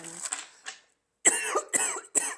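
A woman coughs in her kitchen, a few rough coughs followed by a pause and then three louder, harsh hacking coughs in quick succession, close to the microphone.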